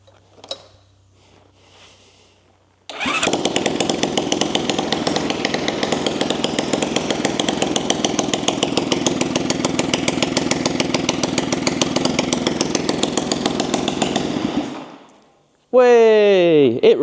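A Honda C50 motorcycle engine cranks with a short button press, fires and runs loud and steady for about twelve seconds, its rapid popping beat close by, then cuts off as a brief voice follows.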